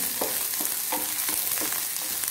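Red chillies with ginger and curry leaves sizzle hard in hot oil in a pan, a loud close hiss with rhythmic scraping strokes of a spatula every half second or so, and no talking.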